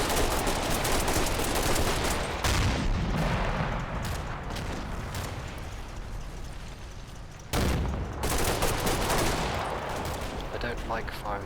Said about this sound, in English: I don't like firing over the heads of my squaddies, but I have little choice.